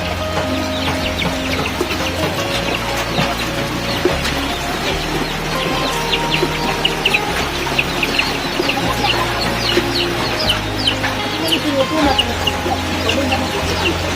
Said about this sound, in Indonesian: Tahan itu ayam.